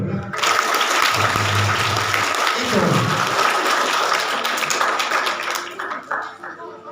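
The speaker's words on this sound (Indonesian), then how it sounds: "Tepuk tangan dulu." Audience applause at a religious talk marking the Prophet's birthday (Maulid Nabi), a dense steady wash of clapping that holds loud for most of the clip and thins near the end, with a brief voice over it.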